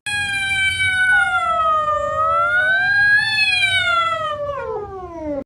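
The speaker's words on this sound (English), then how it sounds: "Number 4. Ambulance cat." A cat lets out one long, loud, continuous wailing yowl that rises and falls in pitch like an ambulance siren, lasting about five seconds before gliding downward at the end.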